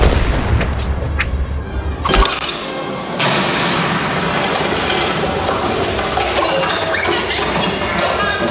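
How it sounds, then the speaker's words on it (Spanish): A loud staged blast in The Mask 4D show at Warner Bros. Movie World Madrid, with a sharp boom, followed by sustained roaring rumble and crackling debris noise that fills the space. "5 segundos para la explosión"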